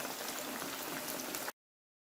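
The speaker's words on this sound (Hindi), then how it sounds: "देखिए हमारी फ़िश जो है वो अच्छी तरीके से फ्राई हो चुकी है" Masala-coated fish fries in hot oil in a home kitchen, a dense, steady crackling sizzle heard up close and alone, cutting off abruptly near the end.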